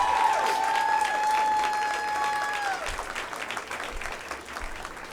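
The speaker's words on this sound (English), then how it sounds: "Please give her a big round of applause." An audience applauds at RuPaul's Hollywood Walk of Fame ceremony, with steady broadband clapping throughout and a sustained tone that fades out partway, the applause continuing alone.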